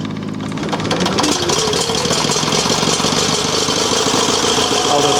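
An Onan 305 CCK generator engine runs with the choke on, a loud, steady, knocking idle with rough mechanical clatter that picks up after a second and holds for several seconds.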